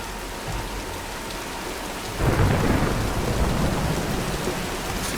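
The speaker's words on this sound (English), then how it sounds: "Nah, let's wait out the storm." Thunderstorm with heavy rain in the Tomb Raider video game: steady rainfall hisses throughout, then a deep rolling thunder swells in about halfway and rumbles loudly to the end, with no voices.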